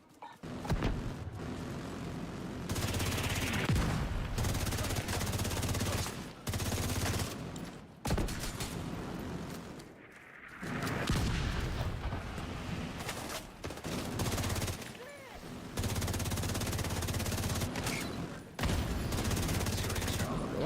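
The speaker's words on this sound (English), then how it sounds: "The autocannon seems to be firing blind." Rapid autocannon fire in The Division 2 video game, a dense continuous burst of gunfire running through most of the stretch with brief pauses and one longer gap midway, loud and close.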